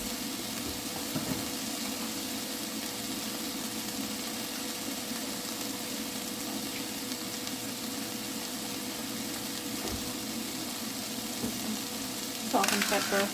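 Eggs frying in oil in a pan give a faint, steady sizzle with soft crackles running under a low background hum, followed by a brief scraping clatter near the end.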